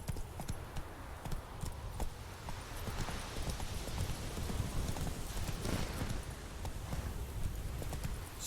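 A horse gallops in the video game Witcher 3, its hooves beating a fast, steady clip-clop rhythm throughout, fairly close and unaccompanied by speech.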